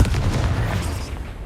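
Confringo blast spell in Hogwarts Legacy combat, a loud booming burst at the start followed by crackling, rumbling decay, close and without talk over it.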